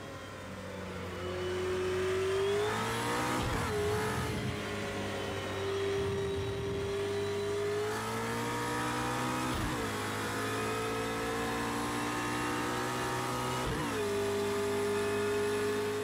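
A high-revving McLaren P1 GTR engine in the video game Project Cars 2 screams through repeated gear changes, pitch climbing then dropping sharply every few seconds, loud and continuous.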